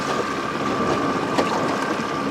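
Strong wind blows steadily outdoors beside the water while a sliding hook rig is being set up at a rustic log cabin deer hunting camp, a constant rushing broadband roar close to the microphone with no voices.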